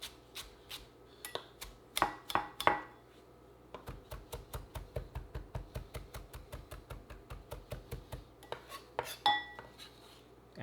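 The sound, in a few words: finely chopping cilantro on a cutting board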